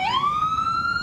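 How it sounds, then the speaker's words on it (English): An emergency vehicle siren wails alone, rising and then holding a steady high tone, loud and close throughout. "Sirens blaring all day, one after the next, taking dozens and dozens of overdose victims to the hospital."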